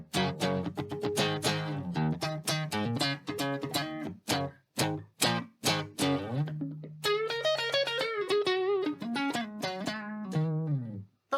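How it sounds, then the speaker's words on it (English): An electric guitar played clean and dry with no effects picks a run of distinct single notes, then lets several notes ring and sustain before another quick flurry, close and clear with no voices. "This guitar is beautiful and it sounds great without any effects."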